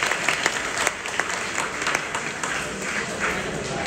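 A school audience of children claps loudly and steadily for five pupils at a motivational lecture, a continuous patter of hands with no pause.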